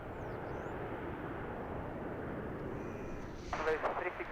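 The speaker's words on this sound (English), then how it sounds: "For some reason, it decided to lift its nose a little late." A jet airliner takes off at Amsterdam Schiphol Airport in a strong headwind, its engines a broad, distant roar that swells slightly toward the end, with a voice talking over it.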